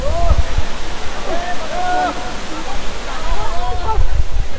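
The Krangshuri waterfall in Meghalaya gives a loud, steady rushing roar of falling water with people bathing. Faint voices and whistle-like calls rise above the constant wash.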